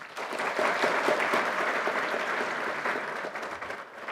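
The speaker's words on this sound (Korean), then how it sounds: "뜨거운 박수 부탁드립니다." Steady, fairly quiet audience applause at a parliamentary policy forum on firefighters and public safety, a crowd clapping continuously for a few seconds and fading slightly toward the end.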